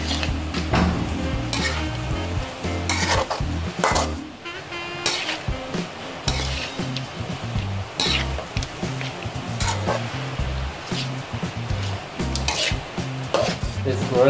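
Crab sizzles in a hot pan during Khmer home cooking, with steady frying hiss under frequent stirring scrapes and clinks of utensil against the pan, close and continuous.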